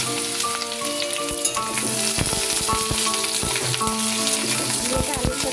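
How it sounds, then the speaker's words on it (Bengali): Sliced ridge gourd frying with thin-cut potatoes in hot oil in a pan, giving a steady close sizzle throughout with occasional stirring clatter and scrapes. "ঝিঙেটা আলুর সাথে ভেজে নিচ্ছি।"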